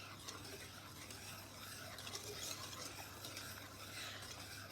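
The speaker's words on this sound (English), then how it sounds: "we're going to whisk that up" A sugar mixture for brownie batter whisked by hand in a bowl, a faint continuous swishing and light scraping under a low steady hum, no talking.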